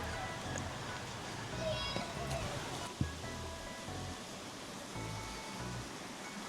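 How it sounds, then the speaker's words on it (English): Steady broadband rush of flowing water, continuous and moderately close, with a brief knock near the middle. "Water, sound of water,"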